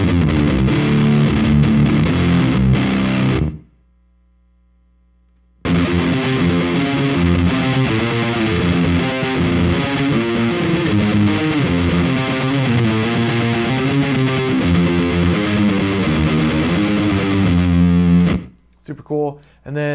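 Electric guitar played through a Hell Horse fuzz delay pedal, producing a loud, gated, modern-sounding distortion in choppy riffs that cut off abruptly into silence for about two seconds, then resume steadily before ending in a few ragged stabs.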